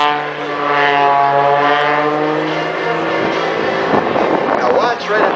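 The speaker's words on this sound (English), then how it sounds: "the 385 horsepower Lycoming engine that's driving this MX-2" Propeller drone of an MX-2 aerobatic plane with a 385 hp Lycoming engine at an airshow, a loud steady tone with shifting pitch as it maneuvers, under an announcer's commentary over the PA.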